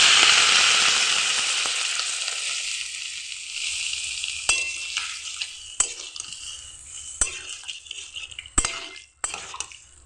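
Sukto, a Bengali vegetable dish, sizzling in a pan as it is stirred, with a loud hiss fading away and several sharp clinks of a utensil against the pan.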